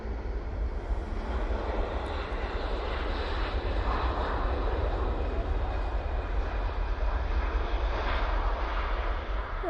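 Airliner departing Manchester Airport for Faro, a continuous heavy engine roar with deep rumble that stays steady and loud throughout.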